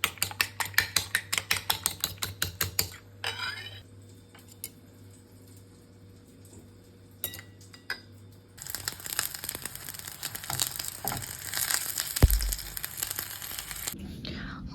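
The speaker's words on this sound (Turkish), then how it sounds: "Yumurta çırpıyorum." Eggs being whisked in a bowl, a quick run of rhythmic, crisp taps for about three seconds, followed by quieter rustling and kitchen handling noises, with faint talk.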